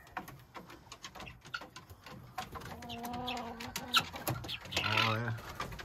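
Chickens and peafowl chatter inside a coop on a winter day in Vermont, with scattered clucks and harmonic calls rising toward the end, moderately loud and close, with soft voices in the background.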